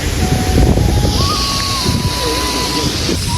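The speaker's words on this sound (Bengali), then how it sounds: "সামনে আছে সমুদ্র" Sea waves wash along the Mumbai coast below a hill road, a loud broad rumble of surf mixed with heavy wind buffeting, and a thin whistling tone drifts through.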